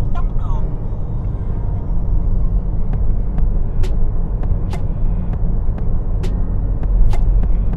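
Steady low rumble of heavy early-morning traffic on Pham Van Dong street, cars and motorbikes streaming past continuously, with occasional brief high hisses like air brakes cutting through.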